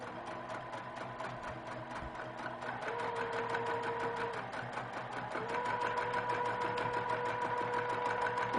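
Sewing machine running steadily while stitching a clamshell pattern of humps on a quilt block, a fast continuous needle chatter with faint motor tones shifting in pitch, close and fairly quiet, with no talking.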